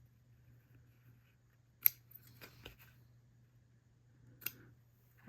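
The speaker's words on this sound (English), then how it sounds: "So I'm going to cut a little bit more out of there." Scissors snip fabric into a tombstone shape in a few sharp, close clicks, with a pause between two groups of cuts over a quiet low hum.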